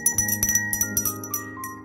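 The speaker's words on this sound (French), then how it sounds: "Voilà la petite cloche" Small hand bell rung in quick shakes, about a dozen bright close metallic rings that overlap and decay into a sustained shimmer, no voices.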